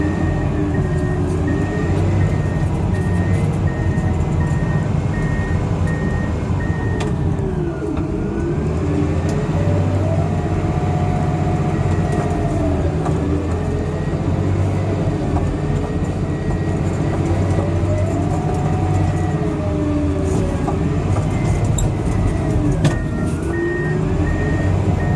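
Komatsu D65PXI bulldozer slot dozing, a loud continuous diesel engine drone with clanking tracks and rising and falling revs under load, plus intermittent reversing beeps, heard close throughout.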